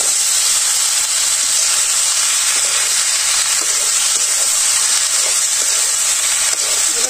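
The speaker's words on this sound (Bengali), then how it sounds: "এটা কষানো হয়ে গেছে, খাই রয়েছে, এখন সবজিটা দিয়ে দিবি।" Vegetables sizzling in a hot cooking pan: a loud, steady frying hiss that runs unbroken from start to finish, close up, with no talking over it.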